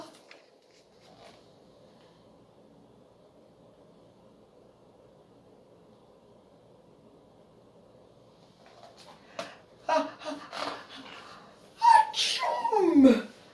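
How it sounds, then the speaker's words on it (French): A voiced, theatrical sneeze from a Santa Claus character bursts out loudly near the end, after a long, nearly silent stretch with faint rustles. "Atchoum!"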